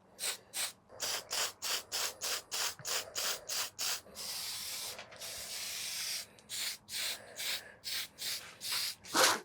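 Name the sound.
spraying fine surface primer on 3D-printed helmet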